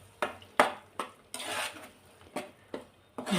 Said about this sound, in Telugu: ఇవన్నీ బాగా కలుపుకోవాలి.